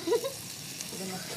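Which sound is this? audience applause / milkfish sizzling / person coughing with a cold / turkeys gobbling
milkfish sizzling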